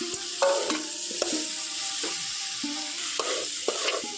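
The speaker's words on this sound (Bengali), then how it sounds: "তো এখন খুব ভালো করে সমস্ত উপকরণ একটু এই মশলার মধ্যে কষিয়ে নেব খুব ভালোভাবে" Fried figs and fried potatoes being stir-fried in a spice masala, with repeated scraping and knocking of a spoon against the pan over a low sizzle, no speech.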